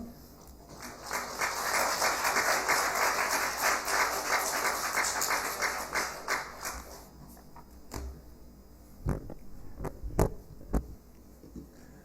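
A church congregation welcomes a missionary with applause, a broad crowd clapping that builds and holds for several seconds before dying away, followed by a few isolated knocks and thumps.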